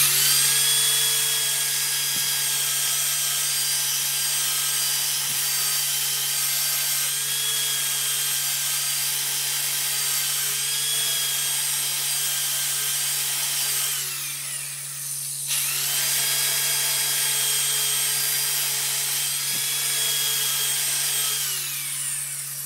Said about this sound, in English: I'm going to grind the sides.